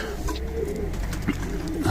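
Pigeons cooing softly and repeatedly, low throaty calls close by over a steady low background hum.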